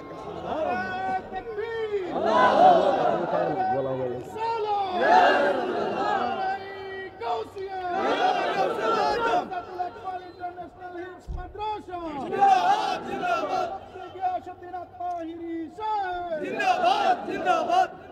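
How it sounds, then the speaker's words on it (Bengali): A large crowd at an open-air Islamic religious sermon in Chandina roars the Nara-e-Takbir slogan in loud, repeated call-and-response bursts, each swelling and fading every few seconds, with many voices merging into a rhythmic chant. "নারে তাকবীর স্লোগান দেন"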